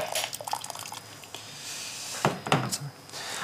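Bag of crushed specialty malt lifted out of warm water for home brewing, water dripping and trickling back in faint, scattered drops with a couple of brief splashier pours near the end.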